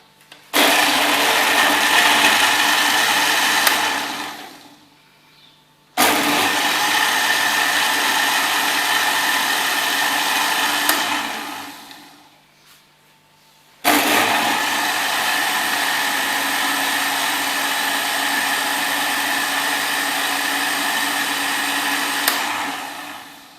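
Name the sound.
blender blending strawberry banana milkshake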